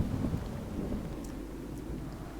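Minecraft rain falls as a dense, steady low rumble and hiss, with a stronger rolling swell near the start settling into an even wash of rainfall.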